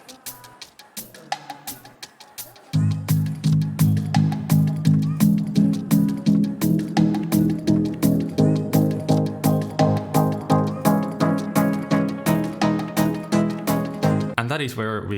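Electronic music track still in progress, with layered synth chords pulsing in a steady repeating rhythm after a sparse, quieter opening, loud and full for most of its length.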